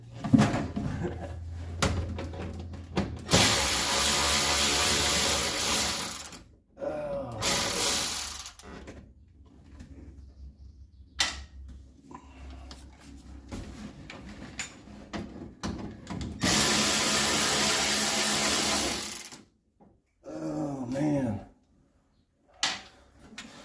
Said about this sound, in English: I was just pulling the screws out